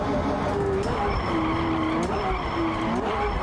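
A race car brakes hard into the final corner, its tyres skidding and squealing over a steady engine drone, with the rear sliding loose before a short pitch rise as the power comes back on.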